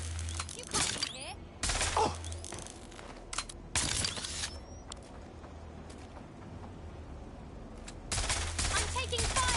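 Gunfire in Watch Dogs Legion comes as several loud bursts of rapid shots, at about one, two, four and eight seconds, set over a low rumbling game backdrop.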